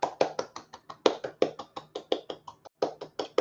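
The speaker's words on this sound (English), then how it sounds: "So, applause." One person claps hands in applause at close range, about twenty sharp, fairly quick claps in a slightly uneven rhythm with a brief pause near the end.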